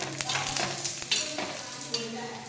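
Rolled frankie rolls deep-fry in hot oil, producing a dense, continuous crackling sizzle up close with a few light clicks of a utensil.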